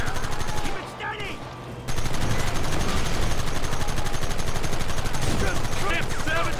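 Dense, sustained gunfire from a Red Dead Redemption shootout, loud and continuous across the whole span with a short dip early on, the shots crowding into a steady fusillade under the general game din.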